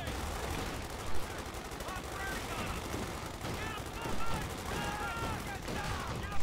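Gunfire and artillery booms from a 4v4 Company of Heroes match, with dense overlapping shots and a few heavier thuds, while players talk over the game.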